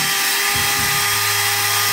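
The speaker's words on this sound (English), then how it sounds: "I just need a drill." A power drill bores into a pumpkin being made into a lantern, giving a loud, continuous high whine that runs steadily from start to finish.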